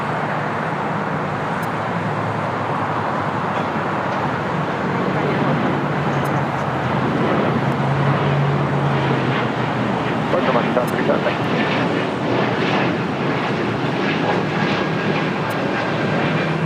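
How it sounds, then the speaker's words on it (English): A Breeze Airways Airbus A220-300 takes off at LAX, a steady loud roaring jet rush that swells slightly and holds throughout, with no other sounds standing out. "That was Breeze Airways 535 taking off to Richmond on an A220-300."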